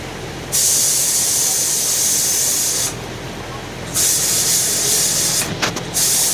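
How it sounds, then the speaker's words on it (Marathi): Steam forced out of a pressure cooker as a spoon lifts its weight, two long, loud, close hissing bursts with a short pause between them, ending in brief sputtering spurts. "चम्मच घेऊन गॅस काढून घ्यायचा कुकरचा"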